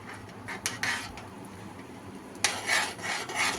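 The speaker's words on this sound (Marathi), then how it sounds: "एक सलग हलवायचे गाठी होऊ द्यायचे नाही" A spoon scrapes and rubs around a pot of thick gram flour batter cooking in boiling salted water, heard as quiet, close rasping strokes in two bursts with a soft pause between.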